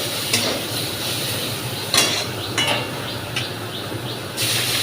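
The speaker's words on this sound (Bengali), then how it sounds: "সবজিগুলো দিয়ে দিলাম, দিয়ে নুন হলুদ দিয়ে ভালো করে এটা ভেজে নেব হালকা করে" Vegetables seasoned with salt and turmeric fry in a small amount of oil with a soft continuous sizzle, punctuated by several sharp clanks and scrapes of a utensil stirring in the pan.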